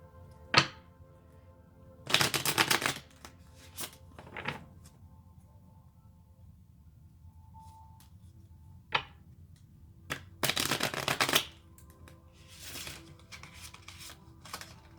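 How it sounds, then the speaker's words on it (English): A deck of tarot cards is shuffled in a few separate bursts of papery riffling and soft taps, close and moderately loud, with quiet stretches between them and no talking. "I'm going to shuffle a little bit here."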